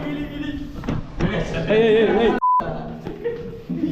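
A single short censor beep tone cuts through mid-clip, surrounded by ongoing talk and background music.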